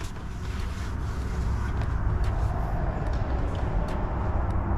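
Steady broadband traffic roar from a busy road, continuous low rumble of passing cars with some wind buffeting, loud and unbroken throughout.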